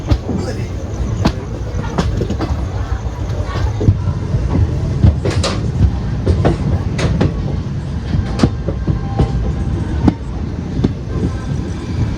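The Vijayapura–Mangaluru Central Express rolls along the rails with a loud, continuous rumble and irregular clacks and metallic clanks, heard from on board.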